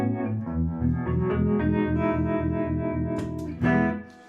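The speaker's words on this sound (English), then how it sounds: "Of course, you have the harmonic vibrato, which sounds like a doggone univibe." Electric guitar played live through a harmonic vibrato effect in a univibe style, sustained chords pulsing with a steady, rhythmic throb before a louder strummed chord near the end.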